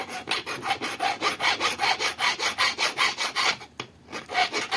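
A metal file rasps a silver ring after the stone setting has been soldered, giving close, rhythmic strokes of about four per second. There is a brief pause before the filing resumes.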